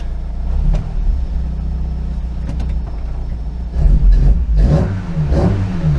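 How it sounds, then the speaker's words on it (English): A car engine with an ME221 ECU revs in place during launch control setup, a steady loud mid-range hum with a brief rise and a couple of surges near the end, close by. "car's revving up fine."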